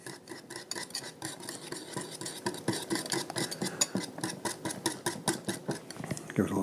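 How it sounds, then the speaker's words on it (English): Ginger teriyaki kabob ingredients being mixed by hand in a bowl that is too small, a fast and steady run of close, rhythmic scraping and clacking with no pause. "Probably could have used a larger bowl, but we're just going to mix that up really good"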